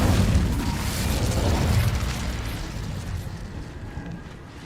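A fiery Incendio spell cast in Hogwarts Legacy, a loud whooshing blast of flame with a deep boom that swells over the first two seconds, then a roaring rumble that slowly fades.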